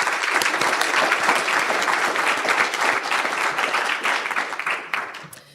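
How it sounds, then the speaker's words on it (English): A forum audience gives a sustained round of applause, dense steady clapping filling the room before thinning out and fading at the end. "let's just give them one more round of applause"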